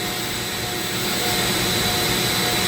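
A Dremel rotary tool spinning a burr at around 20,000 RPM while carving purple heart wood gives a loud, steady high-pitched whine with a dense grinding hiss, continuous and close, with no talking.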